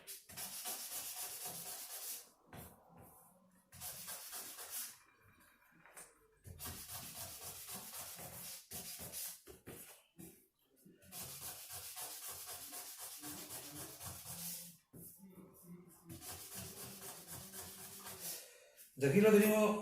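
A piece of Mapuche silver jewelry is hand-sanded in long repeated strokes, giving a soft, hissing rub that starts and stops in steady passes, close and quiet, with brief pauses between strokes.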